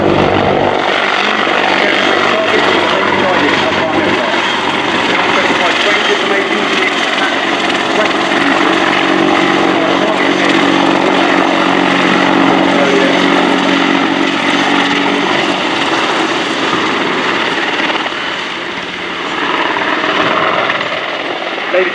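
Loud, continuous thudding roar of an Apache AH1 attack helicopter flying close overhead at an air show display, rotor chop and engine whine sustained, dipping briefly near the end before swelling again.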